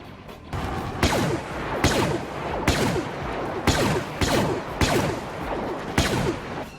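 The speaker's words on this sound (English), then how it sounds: "never before in a Star Wars game did blasters pack such a punch." Blaster fire from Star Wars Battlefront comes as a regular series of punchy, loud shots, about one every second, each with a sweeping zap and a rumbling tail, over constant battle noise.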